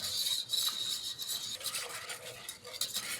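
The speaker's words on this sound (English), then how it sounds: "You can whisk it." Whisk scraping steadily through bittersweet chocolate melting into whole milk in a pot over a low flame, a continuous close rasping stir with soft metallic scratches and no talk.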